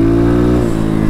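A 2023 X-Pro Titan DLX motorcycle engine revs steadily at close range, a loud, even harmonic drone that dips slightly toward the end of a brief burst.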